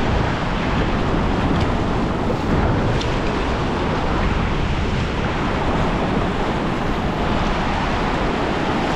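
Steady, full roar of surf breaking on Coronado Public Beach in summer, continuous and close, with some wind buffeting the microphone and no voices.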